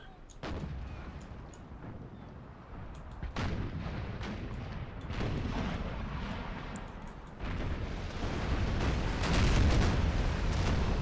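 Naval cannons fire round shot in the game Empire: Total War, a flotilla's broadsides booming again and again as heavy, rolling blasts that overlap into a continuous, rumbling barrage.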